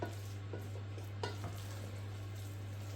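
Sugar being stirred into cooked rice in a pot, heard as faint, soft scraping strokes over a steady low hum.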